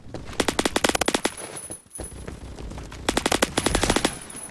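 Rapid automatic gunfire in the Roblox video game comes in two loud bursts of closely spaced shots, with a brief lull between them and no talking.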